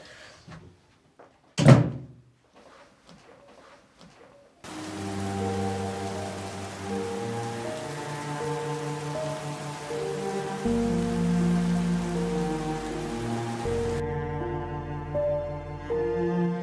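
Rain falls in a steady wash after a loud thump like a door near the start, continuing under layered music tones, with no voices heard.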